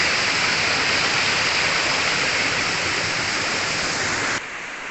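Tretes waterfall on a hike near Pangonan Tlogowungu, a dense, steady roar of falling water heard close and loud, constant throughout before dropping abruptly in level at the very end.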